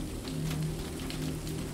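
Steady rain falls in a soft, even wash of noise that holds at a constant level throughout, with no voices and no distinct drops standing out.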